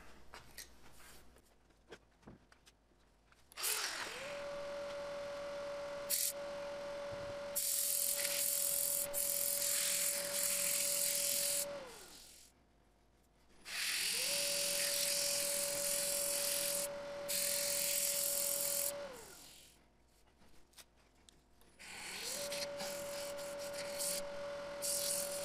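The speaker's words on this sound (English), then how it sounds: "So I think I'm at a spot where I can just sand it up" A wooden mallet turned from a log spins on a lathe while being sanded, giving a steady abrasive rubbing hiss over a motor whine in three long passes with short pauses between them.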